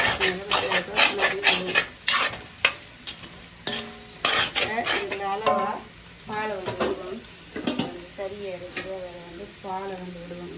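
A spoon or spatula stirs a thick rice-flour puttu mixture in a pan for Batticaloa-style puttu. It makes frequent close scrapes and knocks against the metal with a light sizzle, and a person talks over the stirring.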